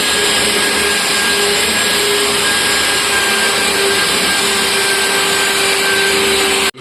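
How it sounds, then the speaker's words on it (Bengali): An electric sanding machine grinds against wall putty with a loud, steady, unbroken whirring roar that fills the whole stretch before cutting off at the end. "এই যে দাগগুলো, এইগুলোকে আমরা ক্লিন করে দেবো মেশিনে।"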